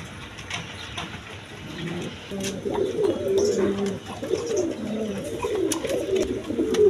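A pair of mili-coloured racer pigeons coo steadily, close by, in soft low rolling calls that grow louder in the second half, with faint background noise.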